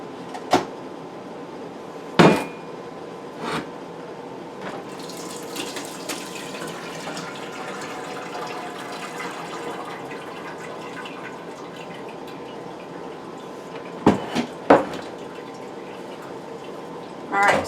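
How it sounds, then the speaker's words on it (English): Cooked pulled pork liquid drains through a colander in a kitchen sink: a steady watery pour runs through the middle, framed by a few sharp knocks and clunks at the start and end. "I'm going to move over here to the sink, and we're going to drain this through the colander."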